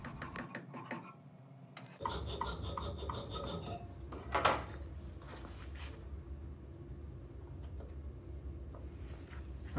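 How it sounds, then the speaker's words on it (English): A hand file rasps steadily against wooden puzzle parts, a continuous close scraping texture running for several seconds after a brief pause. "We're going to sand more material off."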